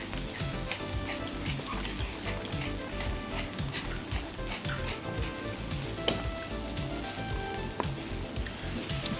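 Butter sizzling on a hot grill beside Kobe beef in Japan, a steady close crackle and hiss with scattered small pops running throughout.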